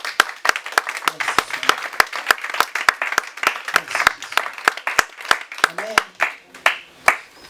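A church congregation at a French-language worship service claps in a firm, regular rhythm, with sharp distinct hand claps repeating every half second or so. A voice speaks and exclaims over the clapping.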